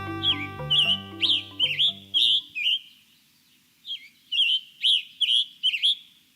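Birdsong opening a BirdNote radio segment: a string of bright, clear chirps and whistled phrases in short repeated bursts, loud and close. A musical theme fades out beneath the first few calls, then the birds carry on alone.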